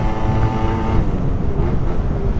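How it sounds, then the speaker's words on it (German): A Peugeot Speedfight 4 scooter with a fuel-injected two-stroke engine runs steadily and loud, giving a continuous buzzing drone with wind rush over it and no speech. "weil das hier ist ja ein umweltfreundlicher, in Anführungszeichen umweltfreundlicher Zweitakter. Also der hat ja keinen Vergaser mehr."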